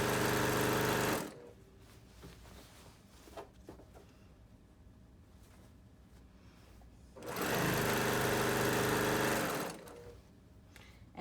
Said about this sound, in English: I'm letting the machine pull the fabric through